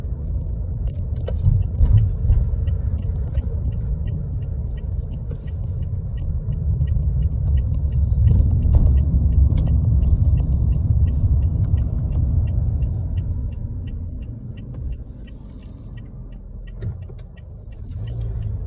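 A car cruising along Sheppard Road, its steady low engine rumble and tyre road noise swelling slightly in the middle before easing off, continuous and close with no talking.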